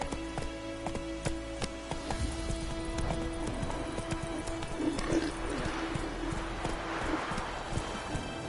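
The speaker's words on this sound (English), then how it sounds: "Come on, Roach." Hooves of the horse Roach clip-clop steadily in Witcher 3 on PS4 as it gallops, with a game soundtrack and ambient patter playing beneath the close, rhythmic footfalls.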